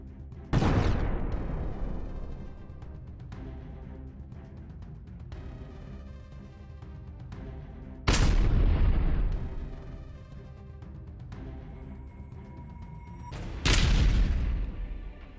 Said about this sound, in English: Marine Brigade launched artillery fire on a concentration of Russian Armed Forces personnel near the village of Nova Zborivka in the Kherson region